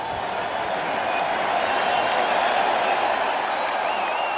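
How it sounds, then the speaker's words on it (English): A raucous home crowd at an England–New Zealand Oval Test cricket match cheers and applauds as a bowler runs in, a dense, steady roar of clapping and voices throughout. "cheered on by a raucous home crowd"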